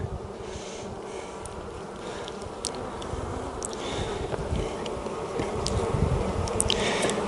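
Honey bees hum steadily at an open hive while a queen is introduced to a frame of open brood, a dense continuous buzz with wind noise and occasional louder passes of individual bees close by.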